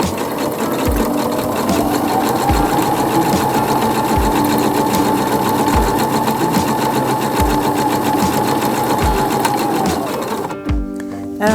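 A sewing machine quilts a bulky peacock quilt, running in a steady loud hum with a regular thumping stitch rhythm for about ten seconds before slowing and stopping near the end.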